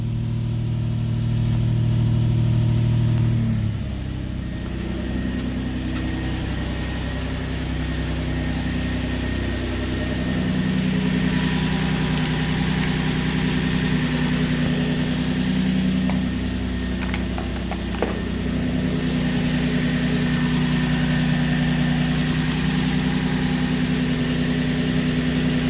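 Nissan Sentra with a swapped VQ engine idles steadily while warming up after a cold start, a continuous mid-low hum with a slight shift in pitch after the first few seconds, heard alone without talk.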